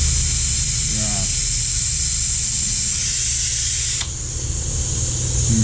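Steady, loud hiss of air from an EWK pneumatic 6.5-liter vacuum fluid extractor pulling oil through a hose. The rushing noise holds constant, then its tone shifts abruptly partway through as flow changes.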